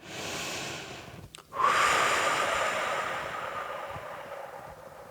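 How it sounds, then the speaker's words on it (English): A person breathes out through the mouth during a foot self-massage, a long, close, airy exhale that begins abruptly after a short pause and slowly fades, with no talking. "stay here for 90 seconds to breathe through the mouth out"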